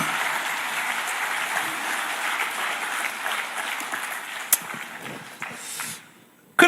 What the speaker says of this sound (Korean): 박수 치려면 같이 쳐야지